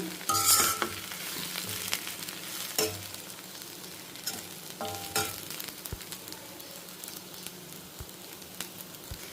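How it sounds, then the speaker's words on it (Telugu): Gongura leaves frying in an iron kadai, a steady close sizzle with occasional spatula scrapes and taps against the pan, loudest at the start and then settling to a continuous crackle. "సో ఇదైతే వేగుతోంది ఇప్పుడు కొంచెం వేగాలి"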